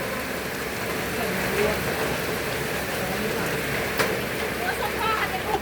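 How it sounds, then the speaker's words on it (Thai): Steady rain hisses and patters without a break, with faint voices somewhere in the background. "ต้องต้องรอให้ฝนหยุดก่อนจะหน่อย"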